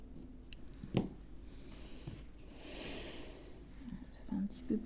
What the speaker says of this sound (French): On va couper le bout.